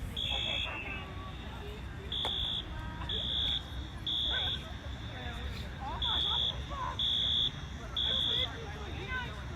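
A school fire alarm in a middle school fire drill sounds repeated loud electronic buzzer pulses in a steady on-off rhythm, with people talking and crowd babble underneath.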